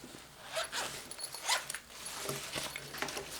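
Compression zipper on an EDC organizer pouch being undone in several quick close-up rasping pulls, with faint rustling of fabric between strokes.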